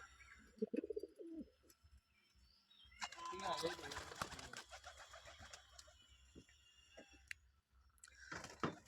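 Pigeons coo softly in low, throaty bursts, with a loud flurry of flapping wings midway and faint voices nearby.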